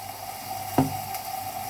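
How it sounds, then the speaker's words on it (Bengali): Garlic and ginger paste hitting a hot pan with a brief wet splat, followed by a low, steady sizzle for under two seconds, with no voices. "এখন রসুন বাটা, আদা বাটা একসঙ্গে মিক্স করা দিয়ে দিয়েছি।"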